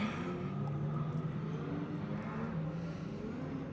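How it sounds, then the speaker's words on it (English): Stock cars circle a speedway at Woodford Glen to line up for a championship race, their engines a steady, distant drone with a low rumble that rises and falls gently and never stops. "So we have our stock cars coming around to line up."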